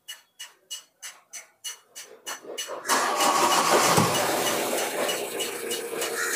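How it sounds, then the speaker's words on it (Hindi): A Mahindra Bolero MaxiTruck BS6 diesel engine is cranked by the starter with a rapid series of about a dozen rhythmic chugs, then catches and settles into a loud, steady, close-up idle with no talking. "इसको एक बार वापस बंद करता हूँ मैं। इग्निशन स्विच ऑन कर गया।"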